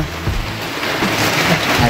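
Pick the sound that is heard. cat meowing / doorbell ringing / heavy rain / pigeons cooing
heavy rain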